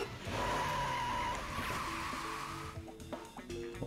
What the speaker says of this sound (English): Don't get run over by the car.